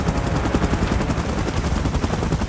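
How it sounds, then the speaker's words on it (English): Helicopter in PUBG Mobile, a loud continuous rotor thump with rapid chopping pulses filling the whole clip, close and steady, with no talk. "Chopper in position."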